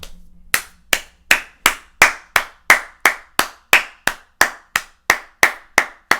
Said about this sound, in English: Man just have to clap them lines there.